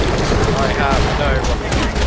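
Dense, loud turret gunfire in the Borderlands Pre-Sequel video game, a continuous rattling barrage of shots with booming impacts filling the whole moment, close and unbroken.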